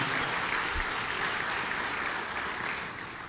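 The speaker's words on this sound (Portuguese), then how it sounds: "Vamos aplaudir" A church congregation claps in sustained, even applause that fills the room at steady loudness from start to end, tapering only slightly near the close, with no voices standing out.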